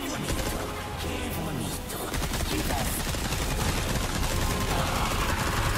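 Rapid, dense gunfire in the Resident Evil 4 Remake video game, a continuous loud barrage of shots and impacts running throughout with game effects layered underneath.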